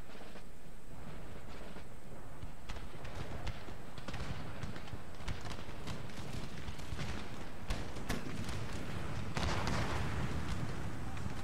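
Musket volleys crackle in an Empire Total War battle, with dense, rough bursts of gunfire and sharp transients layered over a constant roar of battlefield noise and hoofbeat-like clatter.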